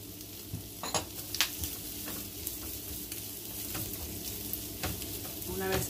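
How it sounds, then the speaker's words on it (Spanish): Onion and chorizo sizzle steadily in a frying pan while being stirred, with occasional scrapes and clinks of the utensil against the pan and no talking. "entonces ya voy a mezclar el chorizo o la longaniza junto con la cebolla."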